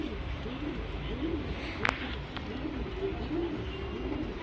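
A male Gerva pigeon coos close by in soft, repeated rolling phrases, each a low throaty burble. A brief sharp click breaks in midway.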